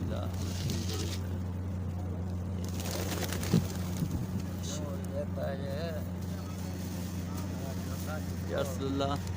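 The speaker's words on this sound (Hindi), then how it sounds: "ये देखें मदीने के कबूतर जनाब, माशाल्लाह।" Pigeons of Medina near Masjid Nabawi coo softly in short wavering calls. Their cooing sits over a steady low mechanical hum and nearby talking.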